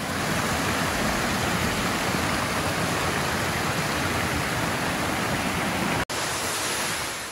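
Nanami Falls, one of the Akame 48 waterfalls, roars as a loud, steady broadband rush of falling water that fills the scene, with a brief cut near the end before the roar resumes.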